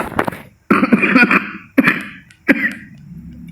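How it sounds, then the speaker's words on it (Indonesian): Several harsh, throaty coughs in quick bursts, close and fairly loud, separated by short pauses. "Sorry batuk"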